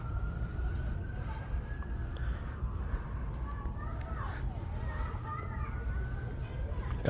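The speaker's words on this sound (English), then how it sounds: "kids, neighborhood kids in the background" Neighborhood children's voices and play carry faintly from a distance over a steady low outdoor rumble in a California garden, with a thin siren-like tone threading through.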